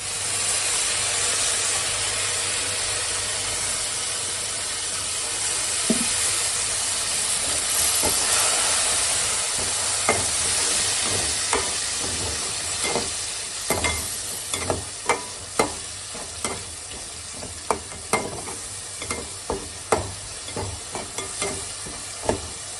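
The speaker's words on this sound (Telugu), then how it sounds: "ఇగో టమాటా ప్యూరీ వేస్తున్నా" Tomato puree hits a hot pan while cooking paneer biryani, giving a steady loud sizzle and hiss with stirring clicks and scrapes that grow more frequent toward the end, and no talking.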